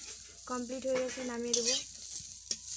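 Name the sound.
cauliflower frying in a pan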